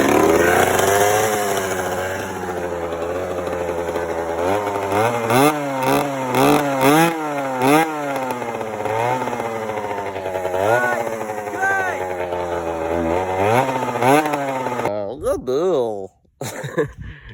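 A Kawasaki KX 125 two-stroke dirt bike with an FMF exhaust revs repeatedly, its engine climbing and falling in a steady series of loud blips up close before cutting out near the end.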